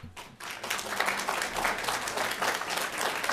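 A city council meeting audience breaks into applause, a dense burst of many hands clapping that stays loud and steady for a few seconds.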